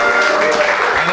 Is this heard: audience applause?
yes